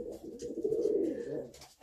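A young pigeon chick coos inside a dovecote, one close, soft, low rolling call that lasts under two seconds.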